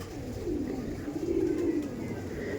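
Tournament-quality Madrasi pigeons coo in low, rolling murmurs, close and steady against a busy background hum.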